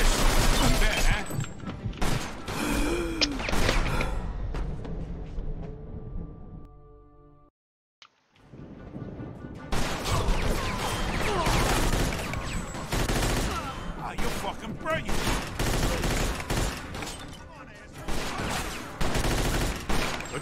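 Heavy sustained gunfire in Mafia 2, dense bursts of close shots that cut out for a moment of near silence, then resume just as loud and rapid.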